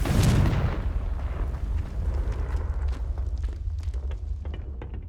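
A Confringo fire spell in Hogwarts Legacy explodes with a loud, close boom, then a rumbling fiery tail and scattered crackles fade out over several seconds.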